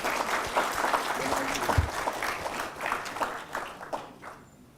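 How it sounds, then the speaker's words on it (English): An audience claps for two honoured guests at a memorial address, steady dense applause lasting several seconds before tapering off at the end. "You must give them a round of applause"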